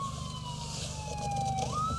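An ambulance siren passes on a street, a steady electronic wail that bends in pitch as the vehicle moves by, heard alone over low traffic rumble at moderate distance.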